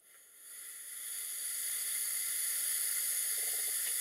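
Compressed air hisses steadily into an old model steam engine, rising from a soft start to a loud, continuous high-pitched rush that holds to the end, with no talking.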